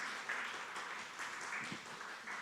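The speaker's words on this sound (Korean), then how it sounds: "우리 응원의 박수 한번 부탁드리도록 하겠습니다" Church congregation clapping in encouragement, a faint and fairly distant patter of applause that stays thin and low throughout.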